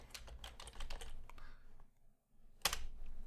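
Soft keystrokes patter on a computer keyboard as C# code is typed, a quick run of clicks, a short pause, then another burst of typing, all quiet and close.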